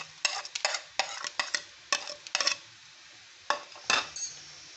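Spiced chana dal namkeen being mixed by hand in a bowl, with a series of brisk crunchy rustles and clinks in uneven bursts, close and fairly loud, with short pauses between strokes and no talking.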